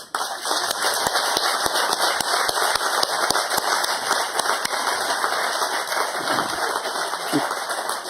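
An audience applauds a book author at a launch event, a broad crackling clatter of many hands clapping, steady and fairly loud, tapering slightly near the end.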